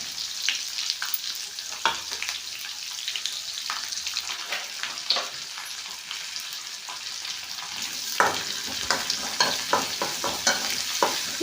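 Onions frying in oil in a pan, a continuous close hiss of sizzling with repeated light scraping taps as a spoon stirs them, growing busier toward the end, and no one speaking.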